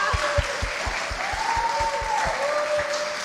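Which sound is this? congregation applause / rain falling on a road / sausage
congregation applause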